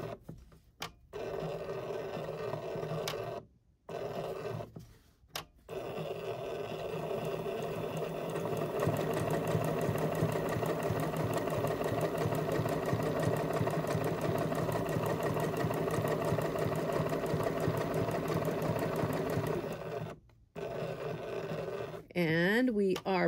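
Sewing machine stitching a fabric cable caddy, a steady fast mechanical whir that runs for long stretches with brief pauses between seams, close and fairly loud.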